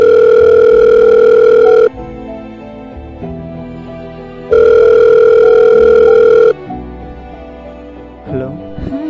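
A phone call's ringback tone sounds in two long, loud, steady bursts separated by a gap, with a quieter room and faint background noise between them.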